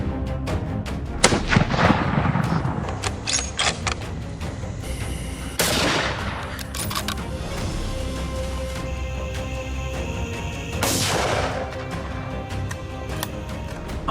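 Rifle shots ring out during a night wild boar hunt in dense forest, three sharp, loud cracks spaced several seconds apart, each trailing into a rolling echo over a constant noisy background.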